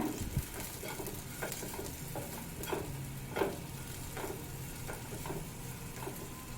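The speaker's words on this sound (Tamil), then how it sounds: "நல்லா மிக்ஸ் பண்ணிவிட்டு அஞ்சு நிமிஷம் லோ ஃப்ளேமில் வச்சு குக் பண்ணிக்கோங்க" Ivy gourd pieces fry gently with curry leaves in a pan on low flame, a soft steady sizzle under occasional light scrapes and clicks of a stirring spoon, close and calm.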